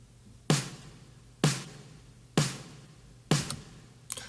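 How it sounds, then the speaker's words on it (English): A layered snare built from three stacked samples, one short, one longer and one deeper, hits four times at a steady, even pace, each crack sharp and bright with a short decaying tail, alone and up close. "the snare consists of 3 snares"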